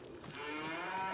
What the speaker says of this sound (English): So we've got the cows out here.